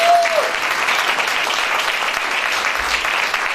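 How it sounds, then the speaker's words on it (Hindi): Loud sustained applause from an audience at a business winners' celebration event, a dense continuous roar of clapping that stays steady throughout, with a brief voice at the very start. "मैं चाहूंगा अगेन सर जी के लिए जोरदार ताली"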